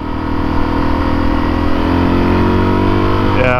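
A dirt bike engine, a KLX300 or DRZ400S, runs loud and steady at close range, holding a constant rev with a slight rise in pitch near the end.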